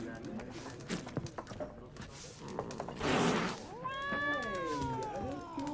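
A cat meows in The Witcher 3, a clear, drawn-out rising and falling meow near the end following scattered clicks and a burst of noise, with someone speaking around it.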